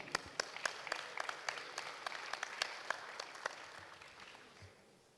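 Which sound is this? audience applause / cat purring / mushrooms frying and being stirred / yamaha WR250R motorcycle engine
audience applause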